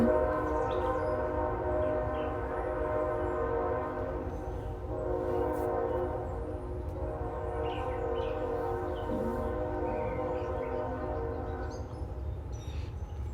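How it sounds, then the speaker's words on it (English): A train rumbles past close by while a loud, sustained multi-tone horn blares over it for several seconds. "And there's our fateful train"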